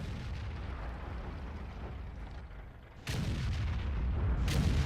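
Tank guns firing in the game World of Tanks, a low rumbling battlefield bed suddenly broken by two heavy booming cannon blasts, the first loud and sustained, the second near the end.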